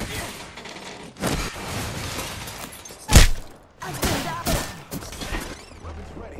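Gunfire and impacts in the battle royale game Apex Legends, loud bursts and crashes in quick succession with a sharp close hit, under players talking.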